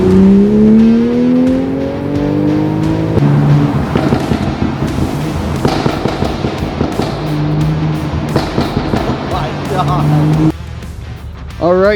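A wide-body Toyota Supra's engine revs up and climbs in pitch, then rumbles and crackles on at a loud, close level while someone talks over it, before it cuts off near the end.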